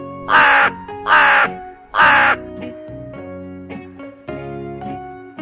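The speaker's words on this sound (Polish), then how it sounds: "Wrona." A crow gives three loud, harsh caws in quick succession, close and clear, followed by sustained tonal sounds with no talking.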